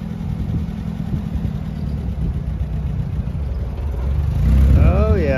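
A 1952 Willys Jeep engine idling with a low steady rumble, then pulling forward as the sound swells louder toward the end, where a voice briefly speaks.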